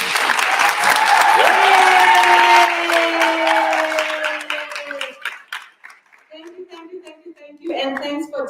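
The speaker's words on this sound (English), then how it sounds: "Let's clap for him." Loud audience applause at an advocacy conference swells into dense clapping, then thins out into scattered claps while voices talk over it.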